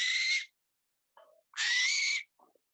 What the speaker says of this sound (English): you probably hear that really loud screeching sound